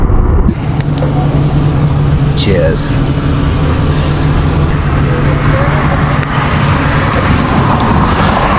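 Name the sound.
vehicle driving slowly through a tunnel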